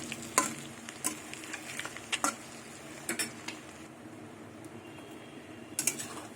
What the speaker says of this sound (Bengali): একদিকে ভাজা হয়ে গেছে উল্টিয়ে দেবো এরকম বন্ধুরা লাল লাল করে ভাজতে হবে